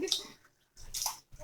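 Wet splashing and sloshing of water while washing chicken, in short bursts with a pause between them, close by.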